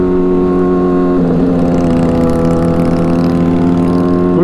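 A Honda CBR600RR motorcycle engine holds a steady, loud, buzzing drone while being ridden, with a slight shift in pitch partway through and no talking.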